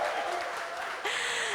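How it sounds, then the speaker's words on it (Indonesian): Brief clapping from an audience at a live talk-show event honoring fathers, heard under an excited voice with a short cheer-like rise partway through. "luar biasa tepuk tangan untuk bapak-bapak semuanya dong"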